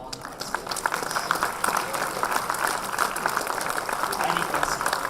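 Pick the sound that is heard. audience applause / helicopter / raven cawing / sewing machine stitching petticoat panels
audience applause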